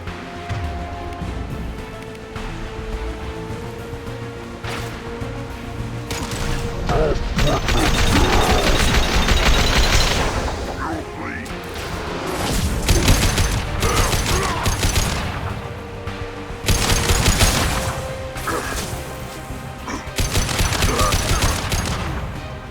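Sustained bursts of sci-fi gunfire and mechanical clatter from a Mass Effect 2 firefight, loud and dense with rapid automatic fire and impacts, swelling and easing in waves across the whole stretch.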